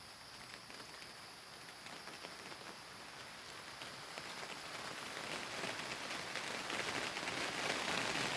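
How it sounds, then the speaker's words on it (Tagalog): Rain pours steadily onto surfaces outdoors on a wet morning, a dense hiss of drops that swells gradually louder toward the end, with no talk. "lumakas na naman ang ulan"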